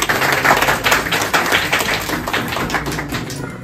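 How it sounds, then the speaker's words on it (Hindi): People clapping at a family gathering for a grandfather's 90th birthday: a lively burst of many hands applauding close by, dense and sustained before tapering off at the end. "तालियां बजाएं।"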